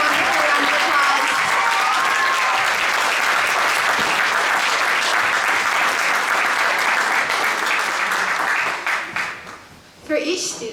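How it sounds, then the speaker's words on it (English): A large audience at the Washington State Poetry Out Loud final applauds students joining the stage, loud sustained clapping that fades near the end before a brief bump of sound. "please give them a wonderful round of applause"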